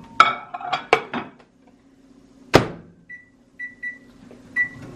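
A microwave oven being used to heat hamburger enchilada sauce in a home kitchen: several sharp clunks of the door and dish handling, then a series of short, high electronic beeps from the keypad, close by.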